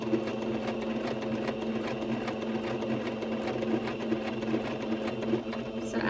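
A sewing machine stitches a curve on a shell top at a steady, unhurried pace, its rapid even clatter running alone and quietly for several seconds.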